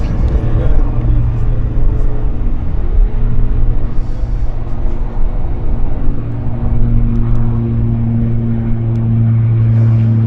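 Beechcraft 1900 turboprop powers up for takeoff at Vancouver International Airport, a loud, steady engine rumble with droning tones that swell and rise in pitch as the throttles advance.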